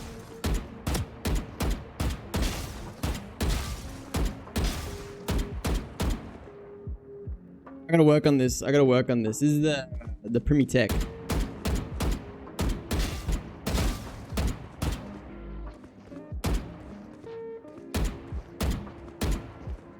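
Rapid gunfire rattles through a first-person shooter video game as sharp, close shots fire in quick bursts. A denser mechanical clatter briefly breaks in, and someone talks over parts of it.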